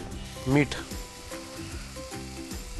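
Ground masala paste sautéing in a pan for matar nimona gives a steady low sizzle and crackle, heard under a voice talking.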